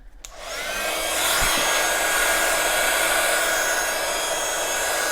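A handheld heat dryer blows air across a stamped floral craft panel freshly touched with lilac ink, starting with a click and rising into a steady, close, loud whir that holds to the end.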